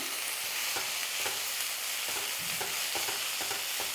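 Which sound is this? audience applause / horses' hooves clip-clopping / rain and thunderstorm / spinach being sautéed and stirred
spinach being sautéed and stirred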